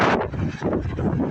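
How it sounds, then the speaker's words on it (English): Strong wind buffets the microphone with continuous rumbling gusts, loud and close, rising and falling throughout. "It's windy as hell."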